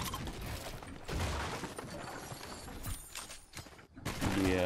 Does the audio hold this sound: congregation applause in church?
no